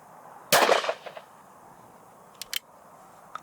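A single close, loud shot from a Beretta Silver Pigeon III field shotgun firing a 28 gram Ely Zenith 6 shot cartridge, a sharp blast with a brief decaying tail, followed by a couple of faint clicks from the gun.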